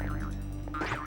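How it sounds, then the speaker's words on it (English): Menu cancel effect from the .hack//Quarantine video game: a brief wobbling electronic blip with a quick warbling pitch sweep, heard faintly over a steady background hum, with no voices. "the cancel sound is kind of similar to the cancel sound"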